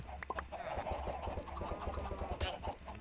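Chickens cluck in the Minecraft video game, steady clucking under a busy game soundscape with rapid clicking and thuds, no talk.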